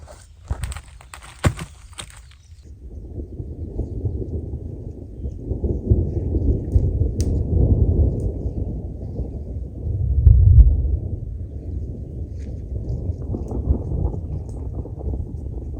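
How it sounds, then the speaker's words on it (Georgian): Deep thunder rumbles and rolls across a mountaintop during heavy spring rain, building in long low swells with a louder peak, following a few brief sharp knocks at the start. "ისეთ საოცარი ხმებია, უბრალოდ დავჯექი და ვტკბები ქუხილის."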